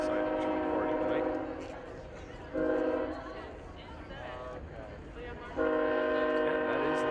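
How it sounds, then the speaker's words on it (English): A train horn sounds in long, loud blasts over a nighttime girls' soccer game, with gaps between the blasts and crowd chatter and voices running underneath throughout. "Looks like a train decided to join the party tonight."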